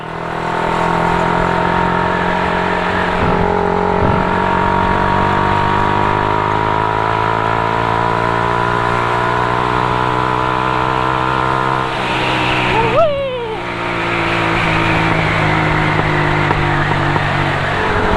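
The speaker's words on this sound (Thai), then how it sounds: "ยอดเสียงท่อ" Loud, throaty car exhaust idling and revving, the engine note rising and falling with a sharp rev burst near the end.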